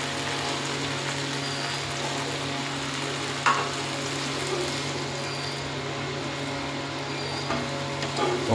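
Sour yogurt going into a sizzling spice masala for a doi tora fish curry, giving a steady, close frying hiss throughout with a few brief louder crackles and clinks as it is stirred, with no talking.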